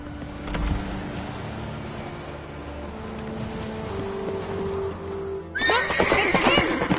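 Geralt's horse in The Witcher 3 whinnies and clip-clops near the start, then a louder neigh and burst of hooves close in over a steady game ambience as the chase begins in Skellige.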